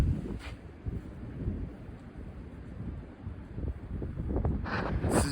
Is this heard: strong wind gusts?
yes